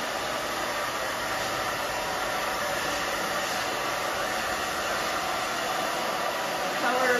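A hair dryer runs steadily and loudly up close while a brush works through the mid-lengths of brunette balayage hair, a constant breathy roar throughout with a slight rise at the end.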